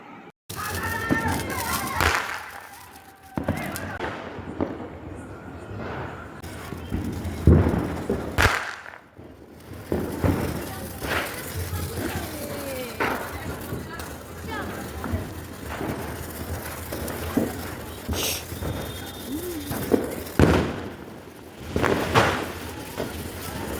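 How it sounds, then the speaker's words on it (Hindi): Diwali firecrackers burst during a home celebration, giving a few sharp, loud bangs over a steady bed of chatter and children's voices. "देख सकते हैं मेरे पति देव बम फोड़ रहे हैं, बहुत मस्त वाला। यहाँ पे पटाखा फूट रहा है"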